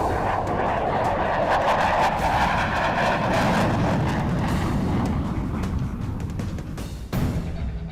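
Indian Air Force fighter jets roar overhead during an air display: a loud, sustained jet-engine rumble fills the whole stretch, swelling and easing as the aircraft pass, with a sharp burst near the end.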